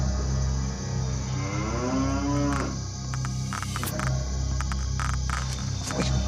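A cow lets out a long, low, drawn-out moo over a steady low background hum, followed by scattered soft knocks and rustles.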